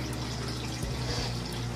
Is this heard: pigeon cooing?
no